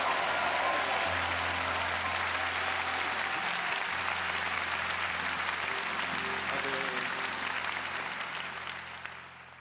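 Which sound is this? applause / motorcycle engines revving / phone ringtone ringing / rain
applause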